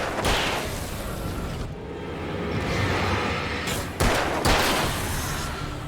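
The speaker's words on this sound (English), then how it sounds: "I'm not sure what I got for guns, but pistols will do for you lot." Pistol shots ring out in the Alan Wake video game, a dense barrage of loud cracks amid booming combat noise, with two sharp reports standing out near the end.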